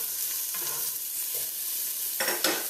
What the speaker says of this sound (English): all you want to do is to give that a stir in here